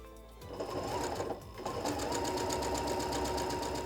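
A sewing machine runs steadily, stitching a seam through quilting fabric for a table runner block, with a brief pause and a quick restart before the motor and needle keep a continuous, close hum.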